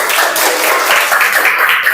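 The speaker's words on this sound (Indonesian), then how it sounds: "Beri aplaus untuk Alia" A classroom of students applauds a pupil, dense steady clapping that fills the whole moment at close range and loud volume.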